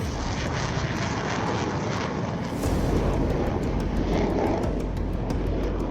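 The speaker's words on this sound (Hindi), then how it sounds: "छह दशकों से आसमान में भारत की आन बान शान रहा मिग-21 सुपरसोनिक फाइटर एयरक्राफ्ट आज अपनी आखिरी उड़ान भरेगा।" A MiG-21 supersonic fighter aircraft flies its final flight at Chandigarh Airbase, a loud continuous jet roar that swells slightly midway and stays steady throughout.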